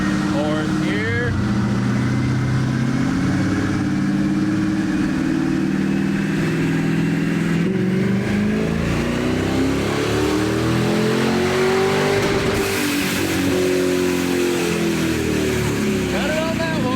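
A supercharged Dodge Charger engine revs hard on a dyno, a loud sustained roar climbing through the gears with pitch sweeps between shifts, with talk partly mixed in.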